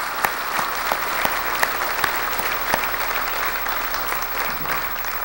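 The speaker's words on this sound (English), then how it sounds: "I'd like to ask for a round of applause from you for Alexis and her leadership." Steady applause from an audience at a university staff fall forum, a dense, even wash of clapping with a few sharper individual claps standing out, continuing throughout without speech.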